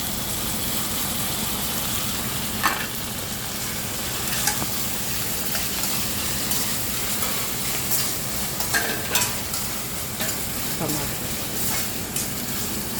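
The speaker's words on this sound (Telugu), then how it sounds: "అల్లం వెల్లుల్లి పేస్ట్ వేసి 1 నిమిషం తర్వాత టమాటాలు వేయాలి." Tomatoes frying in a pan with ginger garlic paste and chillies, a steady dense sizzle with occasional stirring scrapes and a low background rumble.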